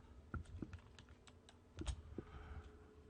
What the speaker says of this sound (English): Hit the shift key and click at the same time.